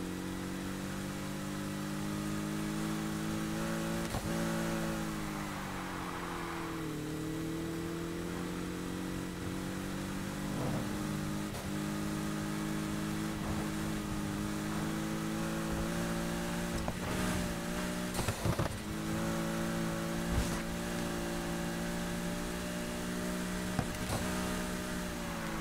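A Porsche 718 Cayman GTS engine in NFS Heat drones steadily at mid pitch, rising and falling through gear changes and revs with a few brief louder bursts, heard alone without talk.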